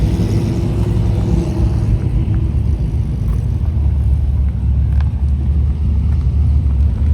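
Street race car engine rumbling at Leesville's King of the Block, a steady, loud low drone with wind buffeting the microphone throughout.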